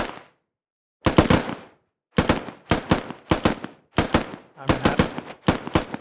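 Assault rifles firing in the Squad video game, loud close bursts of rapid shots repeating in quick succession with brief gaps, and a short spoken comment among the shots.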